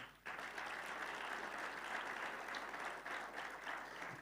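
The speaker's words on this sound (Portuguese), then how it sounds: "Você pode dar um aplauso bem forte ao Senhor?" A church congregation claps loudly and steadily for several seconds, a dense wash of applause that starts abruptly and holds strong throughout.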